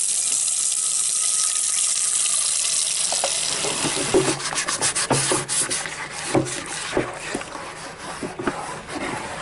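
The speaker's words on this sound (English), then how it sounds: "I like to take and wash it with soap and water in a scouring pad" An old cast iron pan is scrubbed with soap, water and a scouring pad, running tap water first, then loud rhythmic rubbing strokes up close.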